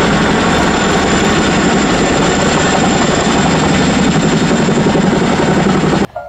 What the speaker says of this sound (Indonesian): ini adalah helikopter Chinook